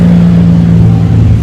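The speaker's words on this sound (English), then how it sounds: "I've got great motorbikes riding past" Motorbikes ride past on a highway, a loud, close engine drone with a low steady hum that holds for the whole brief moment.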